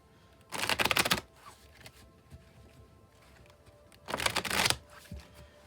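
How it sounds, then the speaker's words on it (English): A tarot card deck is shuffled in two distinct bursts of riffling, close and crisp, separated by a quiet pause. "I'll shuffle till the deck feels ready, and then we'll cut and deal right off the top."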